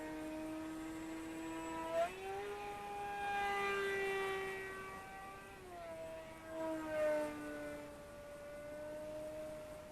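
Electric motor spinning a Gemfan 8x3/8 propeller on a Volantex Ranger G2 RC sport glider, a faint airborne whine that climbs in pitch with throttle bursts, then sags and climbs again as the model passes overhead.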